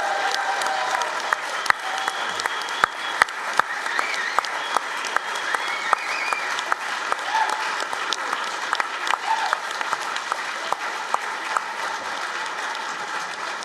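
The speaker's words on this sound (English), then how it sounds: "Give a round of applause to them" A conference audience at an international peace conference in Munich gives a steady round of applause for the evening's hosts: continuous, moderately distant clapping filling the whole stretch, with a few sharper claps standing out.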